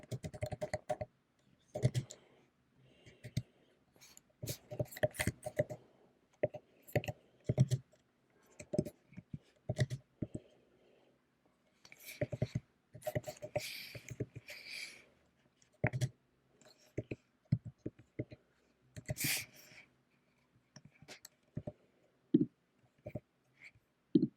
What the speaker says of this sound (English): I'm just going to quickly type up my array with the different numbers with varying decimals